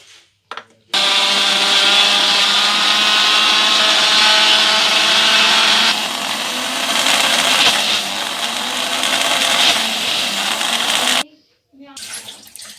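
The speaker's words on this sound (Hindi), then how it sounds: "हाफ हाफ करके मैं इनको ब्लेंड करूंगी ताकि ये अच्छी तरह ब्लेंड हो जाए" An electric blender whirs loudly, grinding ginger and garlic into a paste with oil and salt, a steady high-speed roar that shifts tone midway as the mixture thickens, starting and stopping abruptly with brief quiet at each end.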